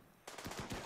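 Short burst of rapid gunfire in the colony-building video game RimWorld, several quick shots rattling in close succession right after a brief quiet moment.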